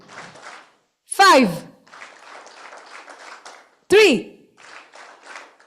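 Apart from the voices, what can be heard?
audience clapping a called number of claps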